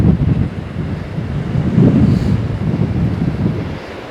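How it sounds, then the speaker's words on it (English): Water from the Kingsmill reservoir tumbles into a pool below in windy, wet British weather. A steady, deep rushing roar carries on throughout, with gusts buffeting the microphone. "I guess the idea of the pool is to slow the water down as it tumbles out of the reservoir"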